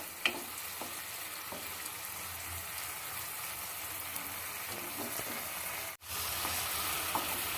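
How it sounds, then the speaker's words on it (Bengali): Tomatoes frying and softening in a pan, a steady, moderate sizzle with light occasional stirring taps and a brief dropout near the end, no talk. "একটু নড়িয়ে দিচ্ছি টমেটোটাকে একটু নরম করে নেব আগে"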